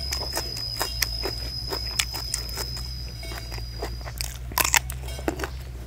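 Close, crisp chewing and biting of crunchy grilled young beef skin served with Thai-Lao spicy beef soup, a series of sharp crunches at irregular intervals over a low steady background hum.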